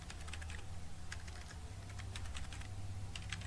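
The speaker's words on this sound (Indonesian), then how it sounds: "Kita ketikkan pesan konfirmasi" A confirmation message is typed on a computer keyboard, producing quick, irregular key clicks that run steadily throughout over a low background hum.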